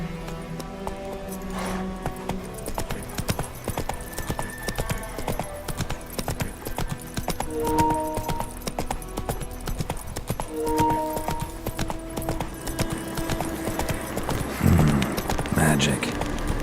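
Roach, a horse in the video game Witcher 3, gallops with a continuous rhythmic clip-clop of hooves under game music and occasional spoken lines, with a brief snort near the end.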